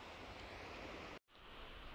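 Sea waves and swell washing on Shoreham beach make a steady, broad rushing wash, interrupted by a brief dropout before resuming, with no voices.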